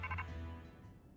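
A faint phone ringtone plays in Pokemon Legends Z-A, a short warbling electronic chime that rings briefly and then fades, heard alone and quiet.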